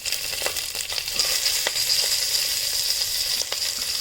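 Green chilies, onion, coriander and mint sizzle and fry in hot ghee for bagara rice, with a steady close hiss and scattered ladle scrapes and stirs throughout.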